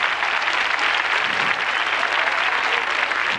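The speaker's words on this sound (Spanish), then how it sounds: "Un aplauso." An audience at a copla gala applauds, a dense, steady wash of many hands clapping at once that fills the moment, with no voices over it.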